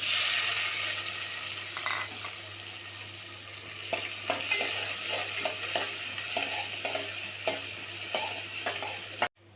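Mustard seeds and cumin hit hot oil in a pan for a paruppu urundai kulambu, making a loud continuous sizzle with scattered crackles and pops, close up, ending abruptly.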